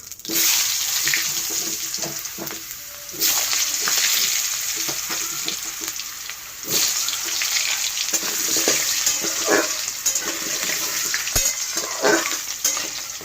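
Cut potatoes dropped into hot oil with cumin seeds and bay leaf, frying in a pan with a loud continuous sizzle, punctuated by scraping stirs and surges as pieces are tossed, no voices.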